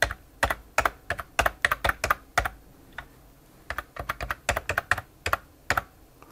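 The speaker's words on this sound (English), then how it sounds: "So if I type, stuff should come out on the serial terminal." Rapid keystrokes on a computer keyboard typing into a serial terminal for a Brother WP-1 serial interface project, in irregular close bursts of clicks with a short pause midway, no talk.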